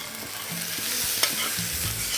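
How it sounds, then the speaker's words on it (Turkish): Hot ingredients being added to a pan and stirred for hibeş, an even sizzle broken by repeated low scraping strokes and one sharp clink, close and with no voice. "sıcak sıcak ilave edip karıştırıyoruz"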